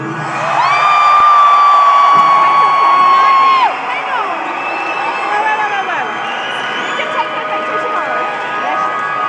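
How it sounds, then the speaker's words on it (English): A large concert crowd cheers and whoops loudly, with a long shrill whistle or yell standing out early on, then the roar settles into steady cheering and scattered shouts that continue throughout. "I never remember the crowds here being so loud and crazy."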